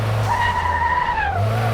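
A car drifting in the video game Car Mechanic Simulator 2026, with a loud, sustained tire squeal held for over a second over the continuous engine drone.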